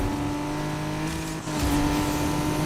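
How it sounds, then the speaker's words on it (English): Aston Martin Vulcan racing car in a driving video game, a loud steady engine drone with rising revs as it passes close by, heard alone without talk. "Was that a Vulcan that just got past me?"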